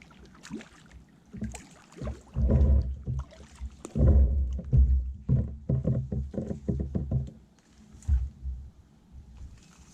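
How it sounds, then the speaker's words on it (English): A kayak paddled through a narrow mangrove channel at Collier-Seminole Park, with close rhythmic paddle strokes, splashes and knocks against the hull in bursts, and quieter gliding between strokes. "So we're going to paddle right through here"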